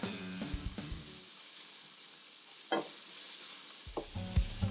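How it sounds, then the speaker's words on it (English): Bacon sizzles in a pan over medium heat, a soft steady crackle with a few louder clinks and stirring clatters breaking through. "we've got the bacon on a medium heat, and we're starting to cook it up"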